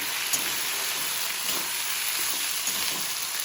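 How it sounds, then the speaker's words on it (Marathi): Lemon juice is stirred into lemon rice in a hot pan, giving a steady, close sizzling hiss that runs throughout with faint stirring scrapes beneath it and no talk. "मी इथे लिंबाचा रस घेतला आहे तो टाकून घेते आणि सर्व मिक्स करून घेते एकदा"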